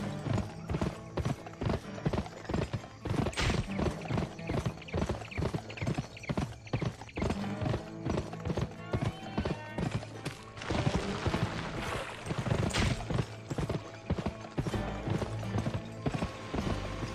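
Horse hooves gallop in a video game, a fast, steady clip-clop drumming close by throughout, with faint creaks and rattles of tack and no talking.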